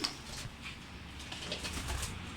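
Pet pigeons or doves flap their wings and settle onto a perch nearby, a soft burst of fluttering over steady background noise with faint cooing.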